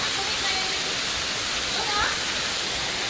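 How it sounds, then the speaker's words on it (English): Strong rush of water flowing from a dam in the rain, a loud continuous roaring hiss close by with no break. "here it's very, very strong the flow of the water"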